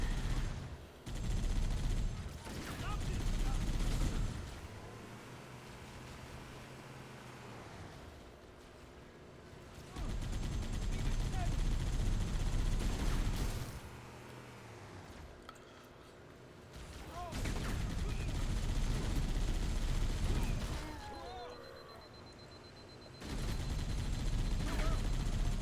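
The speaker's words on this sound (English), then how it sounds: "Can these guys please keep firing the gun?" Sustained gunfire in a video game: bursts of dense rapid shots come and go in long waves, alternating with quieter stretches of rumbling ambience and occasional voices.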